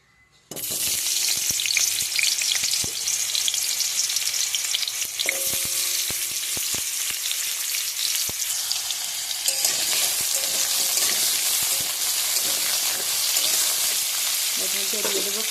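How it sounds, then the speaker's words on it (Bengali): Diced potatoes go into hot oil in a home kitchen, setting off a sudden loud sizzle that settles into a steady, close frying hiss, broken by occasional scraping and clinks of a utensil. "তেলটা গরম হোক, ওর মধ্যে আলু দিয়ে আলুগুলো একটু ভালোভাবে সময় দিয়ে একটু ভেজে নেব।"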